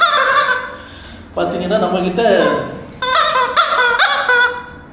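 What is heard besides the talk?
squeaky rubber chicken toy screaming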